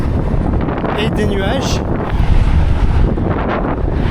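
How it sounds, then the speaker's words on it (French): Strong headwind buffets the microphone of a cyclist on a long road ride in a continuous roaring rush while a person speaks briefly over it. "il y a un bon vent de face"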